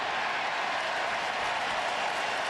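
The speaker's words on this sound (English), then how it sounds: "And the fans cheer as that ball gets thrown back on the field." Baseball fans at a playoff game cheer and applaud after a pinch-hit home run, a dense, steady crowd roar that carries on without a break.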